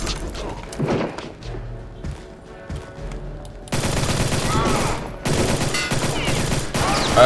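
Suppressed gunfire in a World War II stealth video game, a run of muffled rapid shots with dull thuds, rising in loudness partway through over background game ambience.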